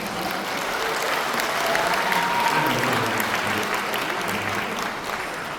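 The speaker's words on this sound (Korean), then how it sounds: "여러분, 박수 한번 주세요." Loud, steady applause from a large audience fills a convention hall during a book concert, a dense wash of clapping that holds for several seconds before easing slightly.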